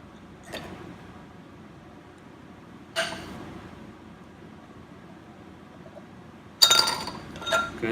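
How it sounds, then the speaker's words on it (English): Glass bottle and metal funnel clinking while an alcohol mixture is transferred during compounding, three short faint clinks spaced a few seconds apart over a low steady background hiss, the last a quick double tap. "Go ahead and grab your funnel that you've got set out and take that off of the stir plate."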